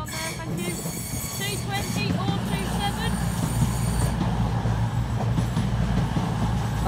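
A train runs through Darlington station, a loud rumbling, clattering roar with a high metallic squeal near the start, steady and close throughout.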